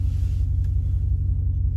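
Muffler-deleted 2017 RAM 2500 Big Horn with a Hemi V8 gives a steady, deep low rumble from inside the cab with the windows up, a continuous throaty drone with little change in pitch through the moment.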